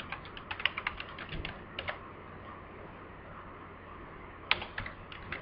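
Keys on a computer keyboard are tapped in quick, quiet bursts of clicks, then a pause, then a few more keystrokes near the end, close up in a still room.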